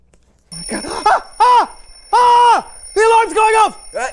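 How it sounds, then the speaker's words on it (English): A kitchen timer alarm goes off while brisket is cooking, sounding as a series of loud electronic beeping bursts in an uneven rhythm, close to the microphone, with an excited voice shouting over it. "The alarm's going off!"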